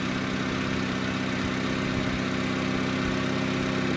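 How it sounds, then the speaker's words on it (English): A car engine idling just after being started during a battery test, a steady low rumbling drone with a constant hum, loud and close and unchanging throughout. "So we'll go ahead and start the engine up."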